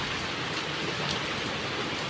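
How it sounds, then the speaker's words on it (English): Heavy rain pours steadily outside a workplace on a wet afternoon, a dense, even hiss that fills the whole clip without a break and with no voices. "Oh, you see, it's heavy rain outside."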